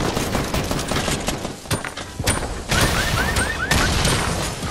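Fortnite gunfire in a close-range fight: rapid bursts of loud shots and impacts crowd together, with a short string of chirping hit tones partway through.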